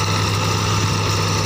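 A 1986 Fiat 480 tractor engine runs steadily at idle, a loud, even, low mechanical drone with constant vibration and no voices.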